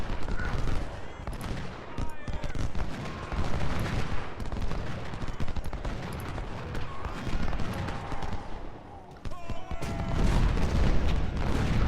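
Rolling musket volleys from Civil War troops in a strategy game, dense continuous crackling gunfire with heavier booms, loud and sustained, while someone talks.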